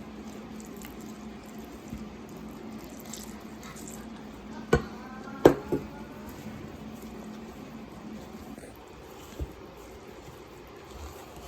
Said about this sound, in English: So we pour it in the mixture of flour and the dry mixture.